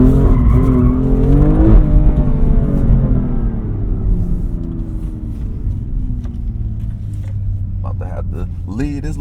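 A BMW M2 driven hard with traction control off, its engine rumbling and tires squealing loud and close, the pitch sweeping as the car slides, then fading into a steadier drone while someone talks over it.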